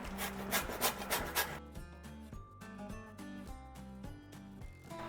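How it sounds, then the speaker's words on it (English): A lemon is zested on a grater: several quick, close rasping strokes in the first second and a half, then softer, with light background music carrying on underneath. "Now we're going to zest our lemon."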